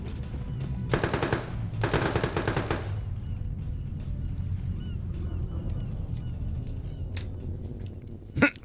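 Two rapid bursts of machine gun fire from an aircraft strafing in a military video game, loud and fast-rattling, followed by a lingering low rumble and a sharp impact near the end.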